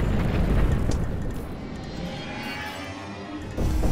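In the video game Cannon Brawl, a cannon fires with a deep, rumbling boom at the start, which fades into a long, roaring explosion and gives way to a second heavy blast near the end.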